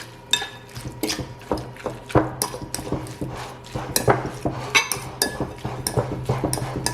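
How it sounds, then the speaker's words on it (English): Crab cake mixture with mayonnaise and egg being folded in a bowl, a steady series of light clinks and scrapes of utensil against the dish, close and fairly quiet. "we're just going to sit here and fold it over a little bit, let it absorb the mayonnaise and the egg"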